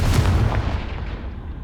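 In Hogwarts Legacy, the Confringo spell bursts with a single heavy, booming explosion that decays into a fading rumble.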